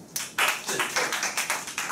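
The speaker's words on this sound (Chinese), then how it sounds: "掌声鼓励一下" An audience claps at a business lecture in an even, rhythmic run of about eight sharp claps over two seconds, close and fairly loud, with no voices.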